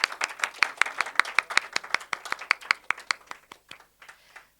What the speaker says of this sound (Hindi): गाइस एक बार जोरदार तालियां विवेक भैया के लिए।